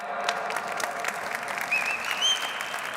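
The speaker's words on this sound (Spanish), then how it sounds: "Fuerte aplauso para ella" Audience applause at an infrastructure-contracts panel session, a dense, even wash of clapping from a seated crowd that holds steady throughout.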